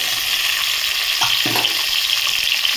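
Tomato pieces fry in a little oil in a pan, a steady close sizzle throughout with a couple of brief stirring scrapes and no talk.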